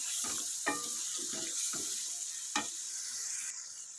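Chicken white karahi is fried in oil and stirred in the pan. Soft, irregular scrapes of a spoon against metal sound over a constant gentle sizzle, with no voices.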